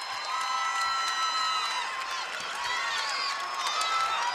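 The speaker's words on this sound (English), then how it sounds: "The Westview crowd behind us making some well-deserved noise." Westview high school basketball fans cheer and shout at a Class 2A state championship game, a dense, sustained roar of crowd noise with whoops and high voices rising over it, steady and loud throughout.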